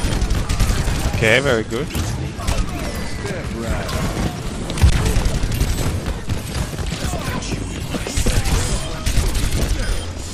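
Rapid gunfire hammering against a wall in a first-person shooter, a dense nonstop fusillade of close, loud shots with bullet impacts, while someone talks briefly over the shooting.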